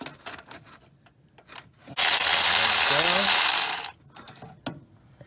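A socket ratchet loosens an oil pan nut under a Ford 3.9 or 4.2 liter Freestar. There is one sustained ratcheting burst of about two seconds, close and loud, with faint speech before and after.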